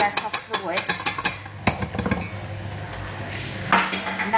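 A metal whisk is knocked against a bowl to shake off excess butter and egg mixture for a cheese and onion quiche, making a quick run of bright clinks and taps followed by softer kitchen handling noise.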